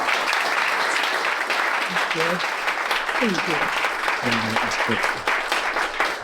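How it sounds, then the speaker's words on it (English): A conference crowd at the Bitcoin Conference 2024 applauds steadily and fairly loudly for several seconds while someone speaks briefly over the clapping. "Huge round of applause real quick"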